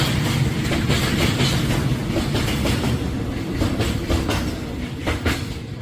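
A freight train rumbles past at Imgi station on the Yeongdong Line, Bonghwa, South Korea, with a steady roar and repeated clickety-clack of wheels over rail joints, loud and continuous throughout.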